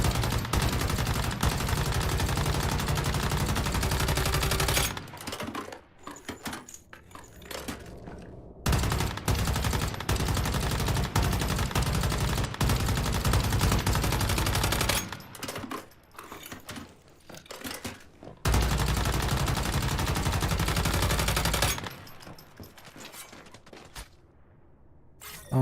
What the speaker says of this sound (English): It's time for the big gun.